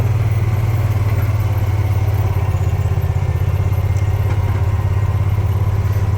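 A tractor engine runs steadily at low idle while backing an ag bagger out of the way on a silage bagging job, with a loud, close, even diesel throb and faint clatter.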